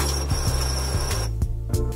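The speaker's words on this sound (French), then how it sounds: "Donc je choisis imprimer." Home printer feeding and printing a sheet for a Silhouette Print & Cut job: a steady mechanical whir with rhythmic clicks and swishes of the print head passing back and forth, close and fairly loud, without voices.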